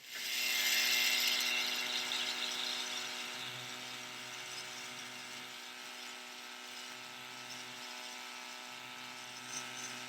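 A small power drill whirs steadily at close range, drilling out the scuttles on a 1/700 scale plastic model ship, loud at first then settling into a continuous high-pitched buzz, with a low hum pulsing underneath.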